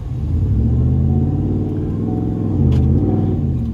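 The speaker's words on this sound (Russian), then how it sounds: "Какой у него выхлоп" Deep, loud exhaust rumble from a Ford VelociRaptor 150 pickup built by Hennessey Performance, a steady low engine drone swelling slightly near the end, close by with no talk.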